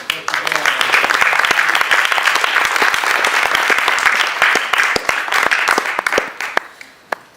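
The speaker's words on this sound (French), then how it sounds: "Je crois qu'on peut applaudir un peu" Loud, dense applause from the audience at a Paris Ecotrail press conference during a cheque presentation, a sustained roar of many hands that thins out and fades near the end with a few last claps.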